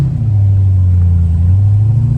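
Supercharged Chevrolet C6 Corvette cruising around town at night, its engine giving a loud, steady low rumble with a constant drone and no breaks.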